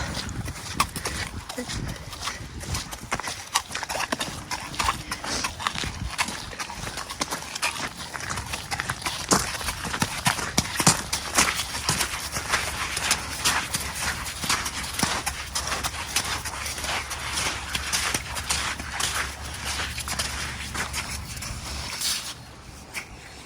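Steady clip-clop of an eight-year-old Welsh Cob mare's hooves during arena work, a continuous rhythmic beat of footfalls over a low background hum.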